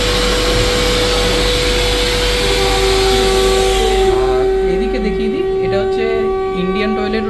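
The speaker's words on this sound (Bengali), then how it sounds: "আর এদিকে রয়েছে হচ্ছে হ্যান্ড ড্রায়ার" A hand dryer in the toilet of a Howrah–Puri Vande Bharat Express train blows with a loud, steady whooshing roar and a tonal whine, then its pitch shifts as it continues, with someone talking over it.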